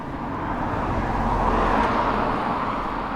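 Steady road traffic near Oundle Road outside Peterborough, heard as a continuous loud rumble and swell of passing cars close by, with no talking.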